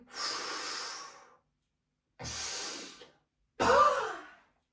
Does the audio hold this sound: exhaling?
yes